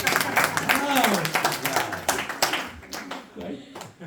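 A small audience gives a round of applause, a brief burst of scattered clapping mixed with people talking over it.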